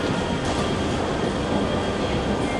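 An airport terminal shuttle train runs at a London airport with a steady, loud rail rumble and rattle that fills the whole stretch, with no voices.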